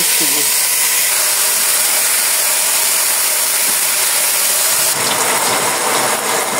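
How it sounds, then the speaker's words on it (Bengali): Blended elephant apple paste drops into hot oil and sizzles loudly and steadily, a dense close-up hiss that grows harsher over the final couple of seconds. "এখন তেল গরম হয়ে গেছে। প্রথমে আমি আমার চালতাটা দিয়ে দিলাম।"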